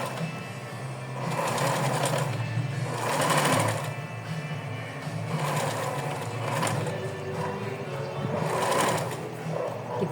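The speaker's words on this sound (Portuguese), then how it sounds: "vou passar outra costura." A sewing machine runs in several steady bursts, stitching a seam along the elastic on doll clothes with a close, even mechanical whir and a rhythmic needle clatter.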